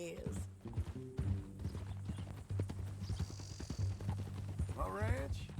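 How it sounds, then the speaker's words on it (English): Horse hooves clip-clop in a steady rhythmic walk in Red Dead Redemption 2, with a short whinny near the end, while voices talk over the hoofbeats. "That new horse?"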